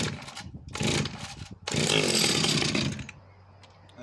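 A vintage Pioneer P25 chainsaw with an easy-start system, run from cold, roars loud and close in bursts of revving, with short drops between, then falls back to a lower idle.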